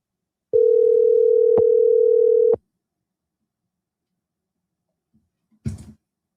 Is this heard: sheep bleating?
no